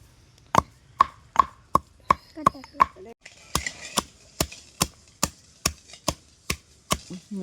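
Indigo (neelamari) leaves are crushed for homemade hair oil with a steady series of sharp, close pounding knocks, evenly spaced and clear with no talk over them.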